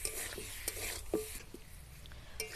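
Potato pieces for aloo dum stirred and sautéed in a pan with salt over low heat, a soft steady sizzle broken by faint scraping strokes, close and quiet.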